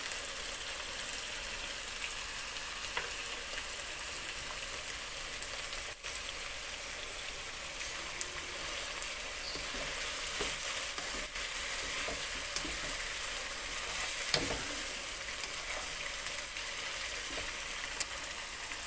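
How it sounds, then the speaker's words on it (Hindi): Chicken frying in a home kitchen pan gives off a steady, dense sizzle and crackle with small pops, continuous and even for the whole stretch, with no talk. "अब ये अच्छे से फ्राई हो गया चिकन हमारा"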